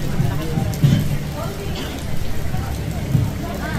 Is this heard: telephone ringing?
no